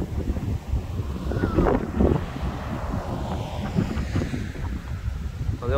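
Gusting wind roars across an open spot under a supercell storm near Voiron, Isère, a continuous low rumble with surging gusts that build and fade, heard alone without speech.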